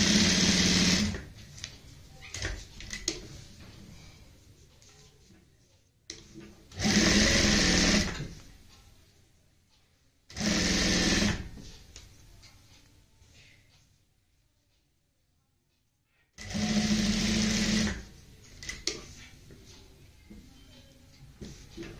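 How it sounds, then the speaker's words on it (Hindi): A sewing machine stitches a neckline edge on printed fabric, running in four loud bursts of a few seconds each with quiet pauses between them. "किनारी की हमने यहाँ पे लगानी है सिलाई, और इस तरीके से यहाँ पे सेट करते हुए इस पे सिलाई लगानी है।"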